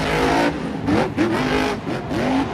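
A monster truck engine revs repeatedly at a stadium show, loud roaring bursts rising and falling in pitch in several surges.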